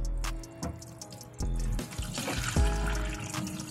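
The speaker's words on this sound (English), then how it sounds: "I'm gonna do a pour and see how this looks." Dirty water poured out of a couch-cleaning container, a close splashing, trickling pour with a few sharp knocks and splashes over about four seconds.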